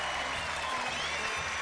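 Steady, dense applause from a studio audience on a children's science TV show, filling the moment evenly at close range with no talk over it.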